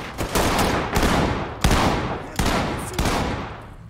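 Rapid gunfire bursts in the tactical shooter game Ready or Not during a nightclub raid, several sharp volleys in quick succession, loud and close with echoing decay between bursts.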